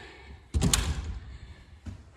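A new front screen door closes with one sharp, close slam followed by a brief rattle, then a softer knock about a second later.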